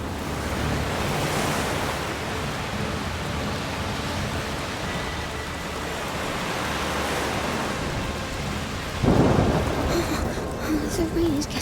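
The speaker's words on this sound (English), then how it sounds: "The rain is getting worse." Heavy rainstorm in the video game A Plague Tale: Requiem, a dense, steady wash of rain and wind noise throughout, with a brief louder burst near the end.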